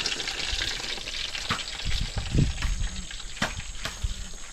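Fish heads sizzle and crackle frying in hot oil, a steady frying hiss with occasional pops and a few soft clinks from stirring.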